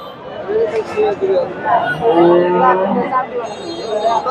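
Cows moo loudly and close by at the Dhaper Hat cattle market in Bogura, several drawn-out lowing calls one after another with faint crowd noise behind.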